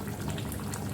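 A soybean, potato and pointed gourd curry bubbles in a covered pot, a steady dense simmering hiss and burble filling the short moment without any voices.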